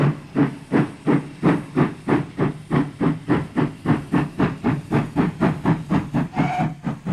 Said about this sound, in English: A local for Cheltenham departs behind 9471, one of the chunky large pannier tanks.